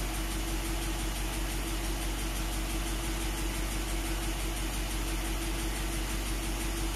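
A rebuilt Willys truck engine idles steadily and loudly up close, with a constant low rumble and an even mechanical hum that holds through the whole stretch, no voices over it.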